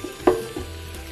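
Prawns tossed in a pan while cooking for pad thai: one short clatter as they are flipped, over a faint steady frying hiss, close and fairly quiet.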